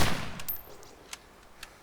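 Gunshots in the video game DayZ: one heavy shot opens the clip and decays, then a few fainter, sharp distant shots follow at irregular intervals.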